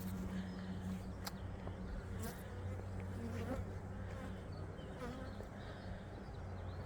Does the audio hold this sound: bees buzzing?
yes